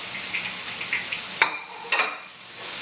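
Pork schnitzels fry in oil in a skillet, a soft steady sizzle broken by two sharp metallic clatters of utensils against the pan, heard up close.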